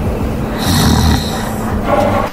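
A security guard snores in deep, rasping rumbles with a brief snort, loud and close, the breaths swelling and fading over a couple of seconds with no talking.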